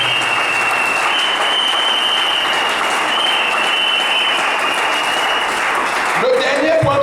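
A church congregation claps in sustained, even applause that fills the room, with a voice rising briefly near the end.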